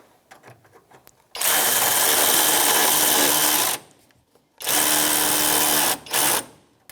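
A power tool driving a 10 millimeter socket onto a radiator mounting bolt on a 1992-1996 Ford F-150, in two loud whirring bursts of a few seconds each, then a short third burst.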